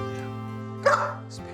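A dog gives a single short bark-like yip, close and moderately loud, over a steady low electrical hum, with a fainter whimper just after.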